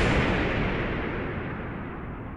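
A deep, broadband explosion rumble standing in for the Big Bang, loud and sustained across the whole stretch and slowly fading as it rolls on, with no voices.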